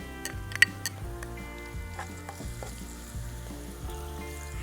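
Garlic cloves and a large piece of ginger frying gently in a pan over a low flame, a soft continuous sizzle with occasional stirring clicks and light taps, close up with no voices.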